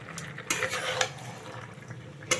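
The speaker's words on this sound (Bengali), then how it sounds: "এখানে আমি এখন মশলাটাকে আগে মিশিয়ে নিই ভালোভাবে" Spice masala stirred and mixed in a pan while cooking Malabar spinach, a brief run of wet scraping and sizzling with a few sharp spoon clicks against the pan.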